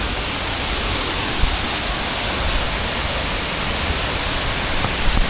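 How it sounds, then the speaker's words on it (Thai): Khun Korn waterfall in Thailand roars continuously nearby, dense steady rushing water with a few faint knocks, while the rainy-day flow stays loud and even throughout. "ทุกคนตอนนี้เราก็มาถึงน้ำตกแล้วนะครับ"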